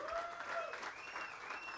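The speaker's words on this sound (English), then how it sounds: "give them a round of applause" A live audience at a Clubhouse Live show with Josh Jones and Kevin King gives a brief, fairly distant round of applause, heard as a soft, even wash of clapping.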